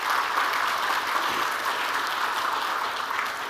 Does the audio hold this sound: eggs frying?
no